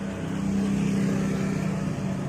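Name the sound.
motor vehicle passing on the road at night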